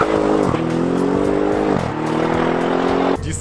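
A tuned stage 2 Audi RS7 accelerates hard with a loud, close, droning engine roar, its pitch climbing through gears with two brief dips at the shifts before the sound cuts off.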